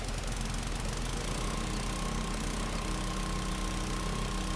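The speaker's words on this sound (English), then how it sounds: "I like that you can hear the engine notes change in the pressure washer." Portable pressure washer engine in Farming Simulator 25 runs at a steady, close, moderately loud drone with a buzzing low hum and a faint high whine, alone with no talk.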